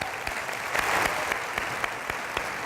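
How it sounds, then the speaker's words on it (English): Audience applause for Jackie, a steady, dense patter of clapping hands that swells slightly in the middle and holds through to the end, filling the room without any voices. "let's give Jackie a huge round of applause"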